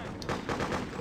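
Machine gun fire in Freedom Fighters, a short rapid burst of rattling shots at middling distance, with a few quick reports crowding together in about a second.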